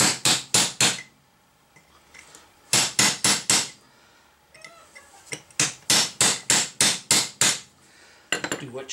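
A hammer drives a chisel to split and widen the gap around a truck kingpin, loud metallic strikes in quick bursts of three to seven blows, with short pauses between bursts, close up and alone.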